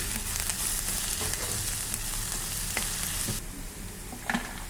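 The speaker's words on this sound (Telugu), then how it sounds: "అల్లం వెల్లుల్లి పేస్ట్ కొద్దిగా వేసుకుందాం కొద్దిగా అయితే ఉంది వేసుకొని పచ్చివాసన పోయేంత వరకు వేసుకుందాం" Ginger garlic paste fries in a pan while making egg fried rice, giving a steady, close sizzle with faint stirring scrapes and no talking.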